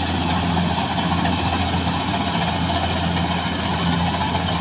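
Kubota DC70G Plus combine harvester engine running at a steady, loud drone with a constant low hum during rice harvesting, with no talk over it.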